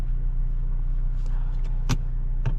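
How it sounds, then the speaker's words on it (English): A 2024 Ford Mustang EcoBoost Premium convertible with a 2.3-liter four-cylinder and 10-speed automatic drives along with a steady low engine and road drone, and a couple of brief clicks or knocks stand out near the end. "let's go for a drive in this 2024 Ford Mustang EcoBoost Premium"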